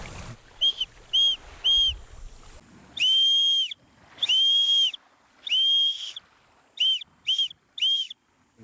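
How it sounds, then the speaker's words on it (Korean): A homemade emergency whistle shrills close by in an SOS pattern, three short blasts, three long ones, then three short, each piercing and high, with faint background noise at the start. "비상시 신호 소음을 낼 수 있는 호루라기를 만들 겁니다"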